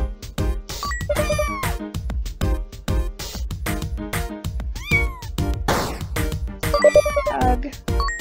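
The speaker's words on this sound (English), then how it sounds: "Meow!" Cats meow repeatedly in the Wholesome Cats video game, short high cries scattered over a busy game soundtrack with occasional faint speech.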